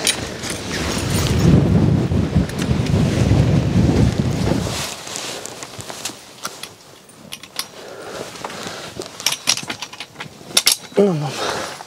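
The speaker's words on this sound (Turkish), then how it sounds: "Güneş çıkınca esiyor." Strong wind buffets the microphone on a cold mountain at sunrise, roaring loudly at first and then easing into lighter gusts mixed with scattered clicks and handling noise.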